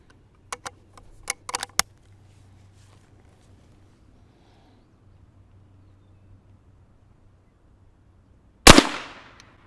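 A single loud rifle shot fired with CCI Mini-Mag 36 grain hollow point .22 ammunition into ballistic gel, sharp and close with a brief decaying tail, preceded by a few small clicks of handling and a stretch of near silence.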